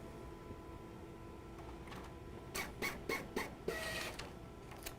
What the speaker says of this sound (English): let's print a beautiful label with our brand new installed printer